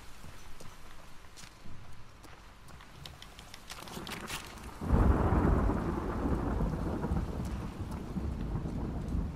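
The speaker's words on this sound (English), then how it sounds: "Lightning's really loud." A thunderstorm in The Last of Us Part II: quiet rain and faint rumbles build to a loud, close thunderclap about halfway through, followed by heavy rain and rolling thunder.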